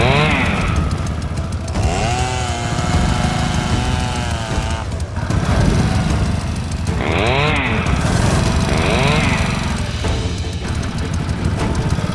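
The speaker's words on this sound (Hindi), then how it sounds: "बाइक स्टार्ट कीजिए।" A motorbike engine fires up and revs in rising, wavering pulses, loud and close, with a steady low rumble underneath and voices faintly mixed in.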